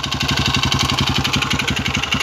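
Motorcycle engine with the Monster 190 kit idling with a knocking worn connecting rod, loud close rapid even pulses with a rough rattling beat throughout.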